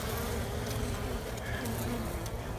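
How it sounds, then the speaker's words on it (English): A dense, steady hum of many honey bees buzzing close by at a hive, a continuous droning swarm with no voices. "I'm going to blow the bees a little bit."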